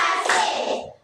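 A single burst of hand clapping from a group keeps time with a counting chant, bright and close, then fades out within a second.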